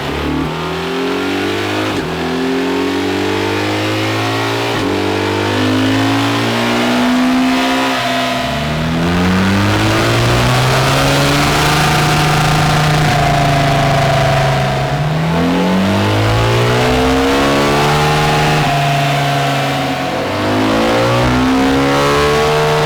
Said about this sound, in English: Let's get it run up on the dyno, get a map for it, and let's get it running properly.